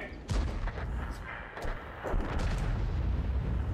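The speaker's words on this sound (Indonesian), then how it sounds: "Harus coba kita 5, 4, tiga, dua, satu, tembak." A tank cannon fires in the video game World of Tanks, a heavy boom followed by rumbling battle noise and further blasts, loud and dense, with a voice briefly heard beneath it.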